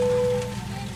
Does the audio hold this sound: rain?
yes